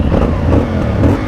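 A CF Moto 450 Ibex motorcycle engine revs up close with a steady, throaty drone that swells slightly and holds through the moment.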